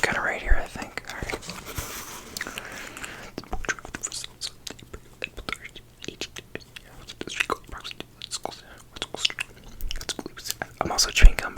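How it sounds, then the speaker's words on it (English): Soft, wet gum-chewing mouth sounds mixed with close, breathy whispering, repeated small clicks and smacks at an irregular rhythm over a quiet room, with one faint page-like rustle near the start. "I'm also chewing gum, by the way, in case you hear me doing extra mouth sounds."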